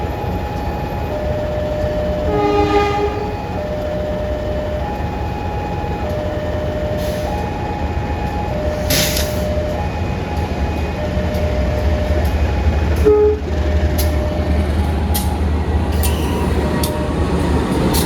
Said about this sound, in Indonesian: Pertemuan dua kereta ekonomi berbeda generasi ya